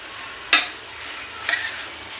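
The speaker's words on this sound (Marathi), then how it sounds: "छेना आपल्याला 5-10 मिनिटं सतत हलवायचा आहे" A spoon scrapes twice through crumbled chhena (paneer) cooking in a pan for kalakand milk cake, two brisk strokes about a second apart over a faint background hiss.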